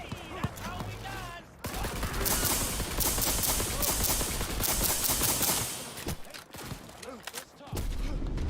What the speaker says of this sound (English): Shit, I'm getting shot.